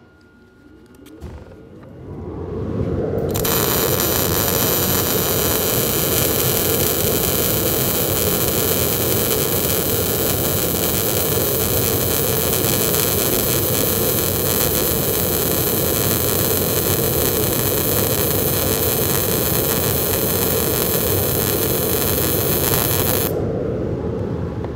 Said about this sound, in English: I'm going to go too slow for this particular weld, and we're going to see what happens to the outcome of our weld.